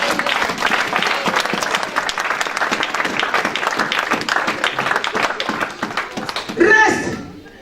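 A church congregation claps together in sustained, dense applause that fills the room, swelling briefly near the end before fading out.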